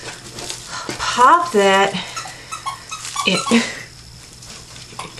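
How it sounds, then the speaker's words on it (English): Happy dog whimpers and squeaky yelps sound in the background of a home workshop where dog toys are being repaired, with a person talking over them throughout. "I love the happy doggo noises in the background."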